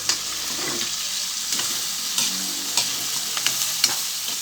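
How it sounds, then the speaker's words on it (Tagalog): Pepper stirred into food sizzling in a pan, a steady close frying hiss with a spoon scraping and clinking against the pan at irregular moments, no voices. "Saka natin halu-haluin."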